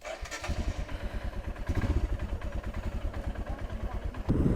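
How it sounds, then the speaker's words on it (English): A motorcycle engine coughs to life in one crank after fuel injector cleaner use and settles into a steady, throbbing idle, close and fairly loud, with a brief clatter near the start. "you all saw how the bike started in just one crank and it has been idling perfectly"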